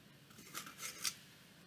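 Scissors cutting slots into a cardboard tube, three short crisp snips in quick succession, close and quiet with no talk.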